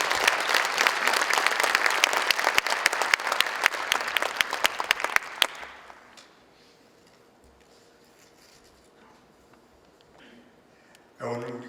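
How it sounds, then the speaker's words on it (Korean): Church congregation at a prayer gathering applauds loudly with dense clapping for about five seconds, then it fades out and leaves a quiet room with faint scattered noise and a brief burst near the end. "목사님 나오실 때 박수로 하나님께 영광 돌리시길 바랍니다."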